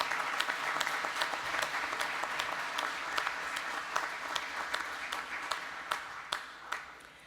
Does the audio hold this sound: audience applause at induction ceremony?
yes